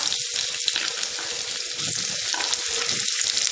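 Onions dropped into hot oil with whole spices like cinnamon and cloves for a mushroom pulao, a loud, close, continuous sizzle and crackle from the pan.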